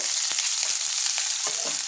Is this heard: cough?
no